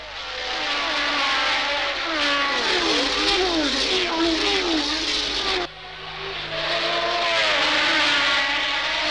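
Racing cars fitted with aerofoils scream past during a race, engine notes rising and falling in pitch as they speed by, loud and sustained with a brief drop before another car roars through.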